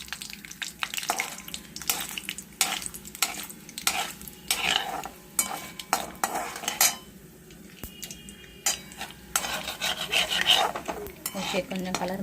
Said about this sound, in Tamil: கொஞ்சம் உளுத்தம்பருப்பும் கடலைப்பருப்பும் ப்ரௌன் ஆகட்டும்.